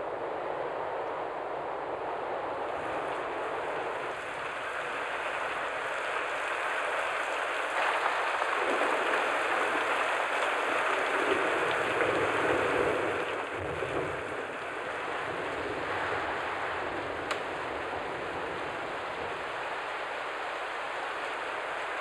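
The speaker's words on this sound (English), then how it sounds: "rain and gale-force winds are battering the coast" Rain and gale-force cyclone winds battering a tropical Australian coast, a continuous broadband roar of wind and falling water with buffeting gusts swelling toward the middle, steady and enveloping throughout.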